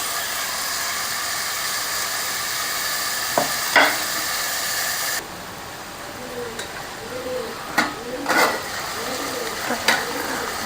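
Vegetables and soya chunks frying in hot oil for a Hyderabad-style vegetable soya pulao, a steady sizzle with stirring clatters throughout, the hiss easing midway as fresh ingredients go in, then scraping spoon strokes near the end.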